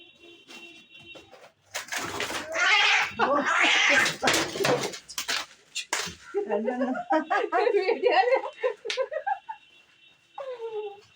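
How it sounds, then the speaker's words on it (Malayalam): Two cats fight, loud bursts of screeching and hissing followed by a long, wavering yowl, then a brief final cry. "രണ്ട് പൂച്ച തമ്മിൽ അടികൂടിയതാണ്"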